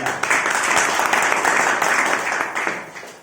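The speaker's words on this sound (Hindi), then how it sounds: "जोरदार ताली अपने लिए बजाइए।" Loud audience clapping at a motivational talk, a dense burst of many hands that stays strong before easing off toward the end.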